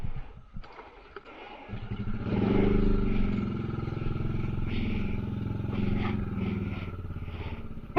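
A motorcycle on a ride toward La Bella Tagaytay. It is quiet at first, then a steady engine drone starts near the microphone and holds to the end.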